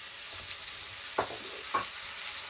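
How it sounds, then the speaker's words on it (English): A pork chop fries in very hot vegetable or sunflower oil in a large frying pan, giving a steady, fairly quiet sizzling hiss with a couple of light clinks. "in a large frying pan, get some vegetable oil or sunflower oil very hot, and then you can add your pork chop"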